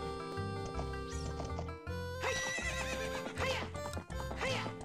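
A horse in The Legend of Zelda Ocarina of Time gives repeated loud neighs and whinnies over game music, several rising calls in close succession.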